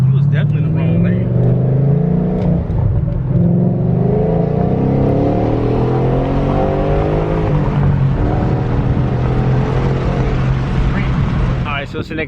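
A 2013 Mustang GT fitted with an X pipe and Flowmaster 44 series exhaust revs loudly and steadily, its deep rumble rising and falling over about twelve seconds, with people talking over it.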